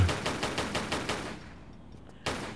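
Rapid bursts of enemy gunfire in Tomb Raider III, a run of about eight evenly spaced shots over a second and a half, then a pause and one more loud shot, with no talk over it.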